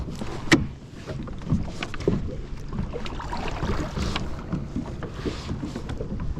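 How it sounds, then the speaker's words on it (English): Boat passing near a SeaStream Angler 120 PDL pedal-drive kayak out on open water, a wash of water and wind with splashy knocks and rushing noise, moderately loud and unbroken. "There's a boat passing by."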